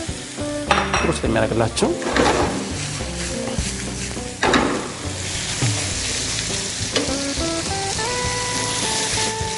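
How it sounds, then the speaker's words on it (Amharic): Bell peppers and onions stir-fry in a hot pan, a loud steady sizzle broken by stirring scrapes and clanks of utensil against metal, with brief speech early on. "ከሽንኩርት ከገባ በኋላ የፈረንጅ ቃሪያው ብዙም ሳይቆይ ሂደዋን አብሮ ይበስላል"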